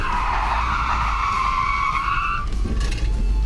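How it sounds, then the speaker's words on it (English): Tires of a 1974 Ford F100 truck skid hard under braking on a track, a loud sustained screech lasting about two and a half seconds before fading into engine and road noise. "next we'll see how well this truck stops"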